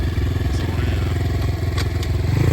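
Apollo RXF 150cc dirt bike engine revving hard as the rider pops a wheelie, a loud close continuous pulsing drone with some rattling clatter throughout.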